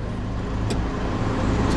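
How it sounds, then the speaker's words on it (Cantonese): A truck approaching on a Hong Kong road on a driving-test route: a continuous, moderately loud engine and traffic rumble heard from a waiting vehicle, with no talk. "有架貨車嚟。"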